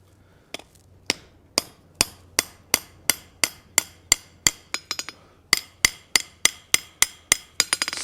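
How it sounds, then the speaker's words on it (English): A lightweight hammer strikes hot steel on an anvil while forging a simple latch, sharp ringing blows falling in a steady, evenly spaced rhythm with a brief pause and a quick cluster of taps near the end. "using a really lightweight hammer here"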